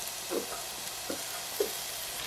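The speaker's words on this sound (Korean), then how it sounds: "썰어놓은 양파를 모두 넣으세요" Sliced onions dropped into hot oil in a roomy pot over medium heat, giving a steady soft sizzle with a few brief louder crackles, no voices.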